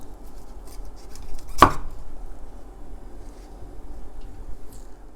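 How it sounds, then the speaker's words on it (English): A knife cuts through broccoli once, giving a single sharp, close chop in the middle of an otherwise quiet kitchen moment. "The knife slices right through"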